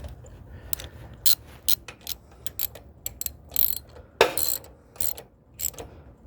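A thread repair tool is ratcheted into the exhaust port of a mower, giving quick bursts of sharp metallic clicks with short pauses between strokes, close and fairly quiet.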